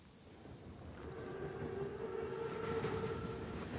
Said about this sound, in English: Train's right on time. Biggest train I've ever seen.